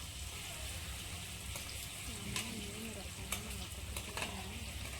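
Ingredients for palak paneer fry in oil in a pan, a soft continuous sizzle with occasional stirring clicks, quiet and close as someone speaks over it.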